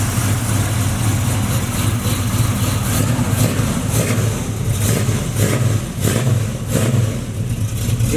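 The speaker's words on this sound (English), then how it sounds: "That thing sound good. Good running motor." The engine of a two-door box Chevy runs strong and loud close by, a steady low rumble with rhythmic pulses of revving, and no talk over it.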